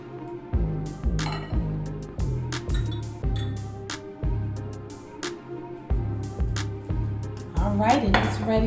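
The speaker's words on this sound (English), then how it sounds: "Mix it in there." Peach cobbler ingredients stirred in a dish, with a utensil knocking and scraping against the bowl in a steady rhythm of close, clinking strokes, along with light kitchen clatter.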